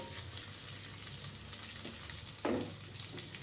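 Vegetables frying in a spiced tempering in a pan give a steady, soft sizzle throughout, with one brief louder hiss near the end and no talking.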